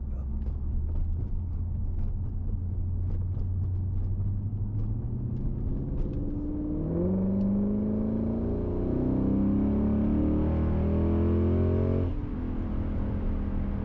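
A Lexus GS-F or RC-F V8 revs hard from inside the cabin, its rising engine tones climbing and stacking into a loud induction roar with secondary intakes opening at 3,500 RPM, then dropping off.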